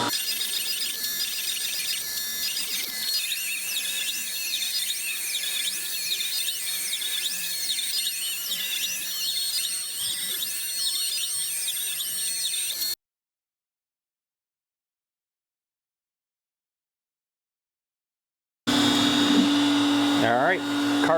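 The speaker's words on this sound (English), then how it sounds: "Spindle is on, I click carve, and it's going to carve out the outline." A CNC router spindle carving an outline into a workpiece, giving a steady high-pitched whine with a broadband cutting hiss that runs for about thirteen seconds, cuts out for several seconds, then resumes with a shifting tone.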